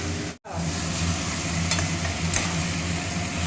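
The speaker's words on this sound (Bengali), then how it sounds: "আদা রসুন এবং লঙ্কা হলুদ দিয়ে ভালো করে কষে নিলাম" Onion with dried chillies, ginger, garlic and turmeric sizzles steadily in a pan as it is fried and stirred. The hiss is close and constant, with a few soft scrapes.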